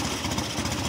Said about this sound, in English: why not make the Honda shaft driven with a 5-speed gearbox and with a liquid cooled twin cylinder 13 horsepower engine?